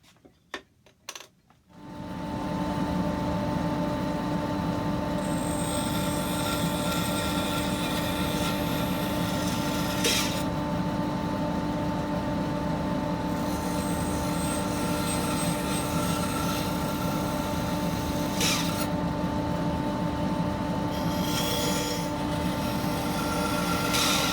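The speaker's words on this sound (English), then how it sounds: "this area here which needs cutting out with the bandsaw" A bandsaw cutting a piece of oak for a candle box, a steady loud motor drone with continuous blade hiss that runs throughout after a brief quiet start with a few knocks.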